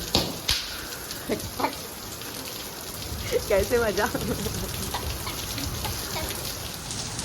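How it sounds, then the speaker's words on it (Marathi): Steady rain patters on a surface throughout during Diwali, with a person speaking briefly partway through and a few faint distant calls. "दिवाळी पण आली आणि पाऊस पण आला"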